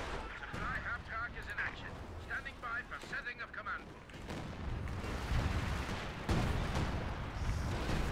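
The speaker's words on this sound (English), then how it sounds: "The Cannon Warfare is hitting the Comet." Artillery shells strike a Comet tank in Company of Heroes 2, with repeated booming impacts and crackling blasts, heavier in the second half, under excited game commentary.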